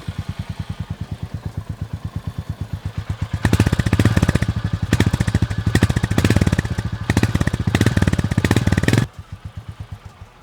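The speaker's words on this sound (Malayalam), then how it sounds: "ഒരു ചെറിയ പൊട്ടലും ചുറ്റലോടും കൂടിയിട്ടുള്ള ഒരു എക്സോസ്റ്റ് നോട്ടാണ്." A Royal Enfield Goan Classic 350 thumps out a loud, close single-cylinder exhaust beat, idling at a rapid even pulse before revving harder with a burst of crackle, then dropping back to idle.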